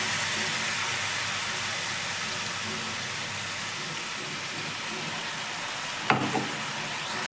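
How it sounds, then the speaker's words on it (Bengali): Chicken pieces fry on a high flame with a loud, steady hiss of sizzling oil that holds throughout, then one brief clatter near the end. "তাই আমরা এটা হাই ফ্লেমে ভেজে নেব"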